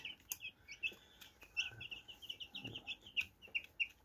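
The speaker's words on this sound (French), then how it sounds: "on a des poussins que j'ai achetés en animalerie" Many young chicks, white and red meat birds from a pet shop, kept under a heat lamp, chirp in quick high peeps and soft clucking calls, close and continuous with no talking.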